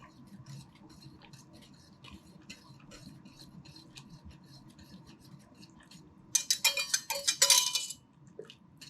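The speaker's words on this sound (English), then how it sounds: "So we're going to whisk this in a little bit." Cornstarch and water being whisked into egg drop soup: a quiet bed of kitchen noise gives way near the end to a short burst of rapid metallic whisk clatter against the pot, loud and close, with no talking.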